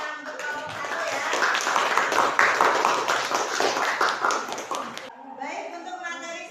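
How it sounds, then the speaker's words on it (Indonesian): Schoolchildren in a biology classroom clap for a group of classmates, a lively burst of many hands lasting about five seconds before stopping abruptly, followed by a moment of quieter room sound. "Silakan beri tepuk tangan untuk kelompok 1 ya."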